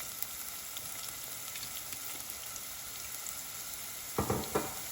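Onions fry in about a tablespoon or two of avocado oil for a spicy pumpkin stew, giving a steady, even sizzle that holds throughout, with a few brief utensil clinks near the end.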